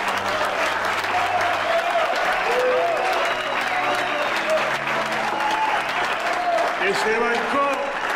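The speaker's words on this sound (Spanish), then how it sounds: "Quiero un aplauso para la señora Verónica Santiago." An audience applauds for Verónica Santiago at a boxing-related event, with dense sustained clapping and someone talking over it throughout.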